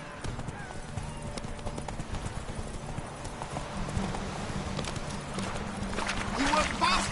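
Horse hooves clip-clop at a steady gallop in The Witcher 3: Wild Hunt, with a character's voice calling over the hoofbeats and a brief whinny near the end.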